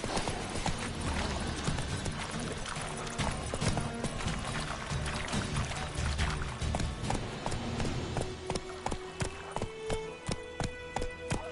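Roach the horse's hooves clip-clop in The Witcher 3: Wild Hunt on PS5, first as a dense, fast rhythmic patter under game music and ambience, then slowing into distinct, evenly spaced hoofbeats toward the end.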